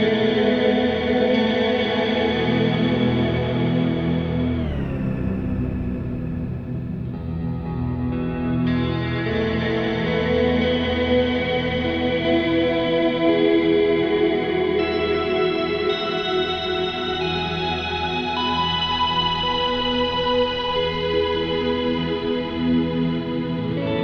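Ambient electric guitar run through effects with the mix at 100 percent, so only the wet signal is heard: a continuous, loud wash of reverb and echo in which sustained notes swell and blend, with no clear attack, throughout.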